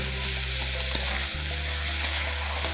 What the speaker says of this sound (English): Immediately reduce the flame and stir this so that the curd does not split.